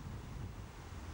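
Strong wind buffets the microphone in the El Chorro gorge, a steady low roar that fills the whole moment with no break.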